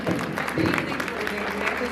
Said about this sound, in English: Big round of applause to everyone.